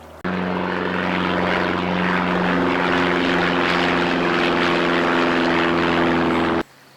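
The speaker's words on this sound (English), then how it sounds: "Low flying plane." A low-flying propeller plane passes overhead in the Scottish countryside, its steady droning engine with strong tonal harmonics loud and close, holding for several seconds before cutting off sharply.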